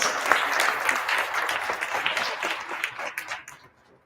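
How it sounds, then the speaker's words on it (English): An audience at a young entrepreneurs club town hall breaks into sustained, dense applause with scattered individual claps, fading out toward the end. "Give a big round of applause for him"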